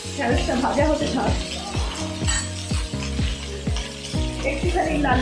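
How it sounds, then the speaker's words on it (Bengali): Okra sizzles as it fries in a pan, a steady hiss broken by a regular rhythm of stirring scrapes. "ঢ্যাঁড়সটা ভাজা হতে থাক"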